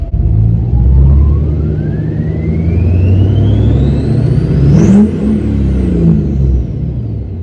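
Duramax diesel pickup with a nine-blade turbocharger revving hard, a loud close engine roar under a rising turbo whistle that climbs steadily before peaking and dropping off as the revs fall.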